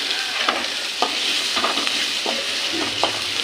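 Onions sauté in a pan for crab masala, giving a dense, continuous sizzling hiss broken by regular scraping stirs, close up and fairly loud with no voices.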